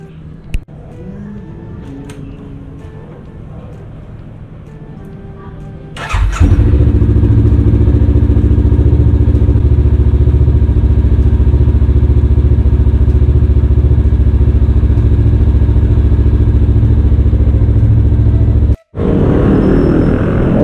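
A motorcycle engine with its silencer still fitted cranks to life after a quiet stretch at home, then idles loudly and steadily up close, cutting out briefly near the end before resuming.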